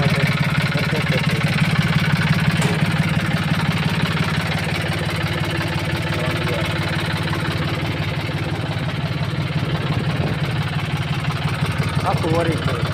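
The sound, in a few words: old tractor engine idling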